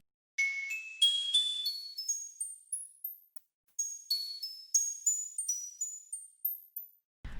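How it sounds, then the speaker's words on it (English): A bright bell synth in FL Studio plays a chord melody of rising chiming notes, two ascending runs separated by a short pause, clean and alone. "I just copied over the same chords onto a bell"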